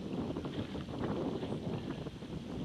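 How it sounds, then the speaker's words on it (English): Steady wind buffeting the microphone while canoe sailing at Long Sault, Ontario, a continuous low rumbling roar with faint water wash beneath and no talking. "it's definitely enough wind for sailing"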